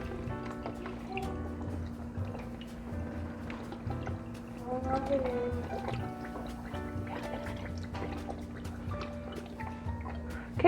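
Worcestershire sauce trickles and splashes softly into a quarter-cup measure in a home kitchen, a quiet continuous pour over a low background hum.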